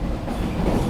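Vande Bharat Express train rolling through Raika Bagh Palace Junction near Jodhpur, a steady loud rumble with low wheel and rail noise throughout, heard from on board or close by.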